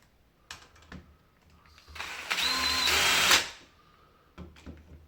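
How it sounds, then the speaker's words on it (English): Power drill boring a pilot hole into a door for a mortice lock, a sustained whirring burst of about a second and a half, loud and close, with quieter handling knocks before and after. "we're going to drill a pilot hole with this one, and then we're going to clean out with a 15mm Forstner bit"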